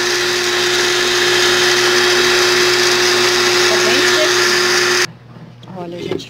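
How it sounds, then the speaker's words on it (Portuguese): A blender grinding pumpkin seeds whirs loudly and steadily for several seconds, then cuts off abruptly, leaving quiet rattling as the motor stops. "aí coloquei, olha, a semente de abóbora aqui no liquidificador"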